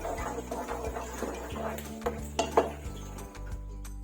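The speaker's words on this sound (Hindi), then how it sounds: "और अब ये गाजरें उसमें ऐड कर रही हूँ। अच्छी तरह इनको कर लेते हैं मिक्स।" Grated carrots being stirred in a pot for gajrela, with soft scraping and knocking of a metal spoon against the pan and a few sharper clanks, close by over a low background hum.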